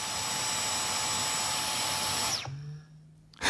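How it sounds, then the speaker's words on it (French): A vacuum cleaner runs loud and steady in an apartment during a search for arsenic evidence. Its motor then winds down and cuts off near the end, leaving near silence. "Et donc c'est reparti pour l'aspirateur."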